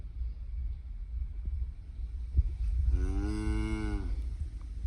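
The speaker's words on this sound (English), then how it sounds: "But he knows her moo." A beef cow moos once in a long, drawn-out, loud call close by, over steady outdoor farm background noise.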